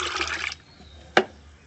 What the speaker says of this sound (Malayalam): ഒരു 1/2 ലിറ്റർ ഒഴിച്ചു കൊടുക്കുന്നുണ്ട്